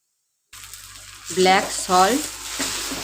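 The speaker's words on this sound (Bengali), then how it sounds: "আর ব্ল্যাক পেপারটা ভালো করে মিক্স করে নেব।" A spoon stirs ground black pepper and black salt through a sabudana mixture, giving two short scraping, sizzly bursts close up after a quiet start, with a faint voice-like tone in between.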